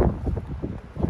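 Cold wind blows in a steady, rumbling rush across a wintry Norwegian setting, loud and close with gusty swells and buffeting against the microphone throughout, with no voices.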